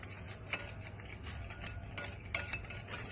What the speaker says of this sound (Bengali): ভালো করে মিক্স করে নিলাম সব কিছু